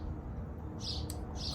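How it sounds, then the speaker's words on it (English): Birds chirp in short, bright bursts, two or three brief calls over a low, steady background hum, fairly faint and a little distant. "Watching the birds."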